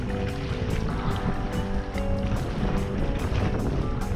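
Kayak running river rapids on the Thames River, with rushing water and rhythmic splashing bursts close to the boat, alongside wind buffeting the microphone.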